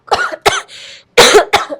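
A person coughs several times in quick, harsh bursts, loud and close, with a brief breathy rasp between the coughs and no speech.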